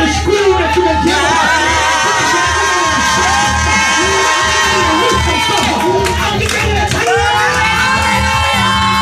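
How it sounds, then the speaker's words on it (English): A church congregation screams loudly together at a conference, a dense, sustained wall of many voices shouting and whooping at full volume for about nine seconds. "Everybody open your mouth and hold your head back. And give God the loudest scream that you can give."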